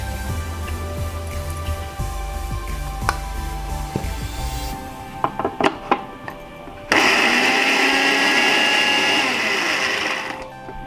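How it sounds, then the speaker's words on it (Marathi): A mixer grinder grinds coconut masala paste, starting with a loud steady whine about two-thirds of the way through after earlier clatter and low handling sounds, running continuously close by. "आता सगळ्यात अगोदर मी ही वाटप करून घेणार आहे"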